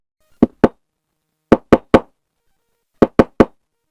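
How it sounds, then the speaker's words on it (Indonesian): Knuckles rap on a door in three separate bursts, first two knocks and then two sets of three, crisp and close against silence. "Suara pintu ada yang mengetuknya"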